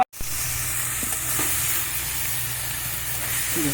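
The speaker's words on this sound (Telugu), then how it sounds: "ఇది మంచిగా నూనెలా చాలా మంచిగా వేంపుకోవాలి" Dried red chillies and leaves frying in hot oil for a chana curry, a steady close hiss and sizzle with faint stirring taps, no voices.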